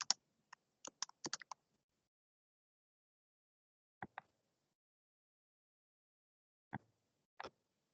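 Scattered bursts of computer keyboard keystrokes while publishing a story in a web page editor, a quick cluster of clicks at the start, then isolated pairs of taps separated by long silences, close and fairly quiet.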